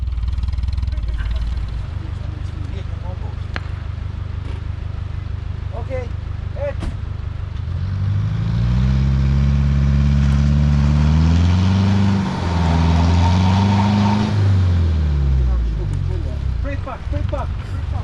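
A car engine strains and revs rising and falling in pitch while pulling a rock with a tow strap on an Albanian roadside, preceded by a steady idle with voices speaking over it.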